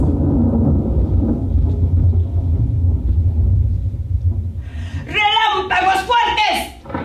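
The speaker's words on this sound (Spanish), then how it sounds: "Provocaré una tormenta de fuertes truenos y rayos para que así sea más fácil tentarlos." Stage thunder effect during a Pastorela nativity play in Tierra Caliente, a loud, deep, sustained rumble filling the first five seconds before a voice shouts over the fading roar.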